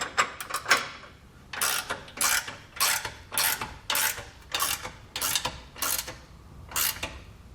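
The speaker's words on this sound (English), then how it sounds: "I'll just use a couple of wrenches to snug it all down" Ratcheting wrenches snug down the hardware of a Curt trailer hitch receiver on a 2020 Jeep Wrangler, giving a close, steady series of quick clicking bursts with short pauses between strokes.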